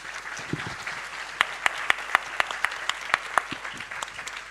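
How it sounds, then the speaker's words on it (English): An audience applauds the panelists at a hybrid launch of the Indonesia Economic Prospects report, moderately loud clapping that starts sparse and becomes a steady run of sharp, evenly spaced claps, fairly close. "Please join me in giving a big round of applause for our panelists"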